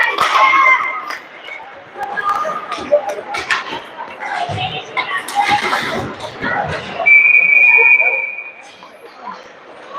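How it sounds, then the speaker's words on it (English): A referee's whistle shrills at an ice hockey game, one sustained blast near the end rising over arena crowd noise, skate shuffles and a commentator talking throughout. "We've got a whistle and I'm not sure if it's a penalty or a face-off."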